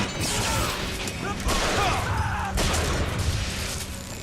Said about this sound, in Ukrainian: І ти вибухнув.